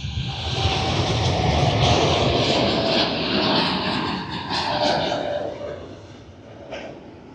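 An Etihad airliner departs Manchester Airport with a loud, sustained jet engine roar heard from the visitor park, swelling and then slowly fading, and people speaking faintly nearby.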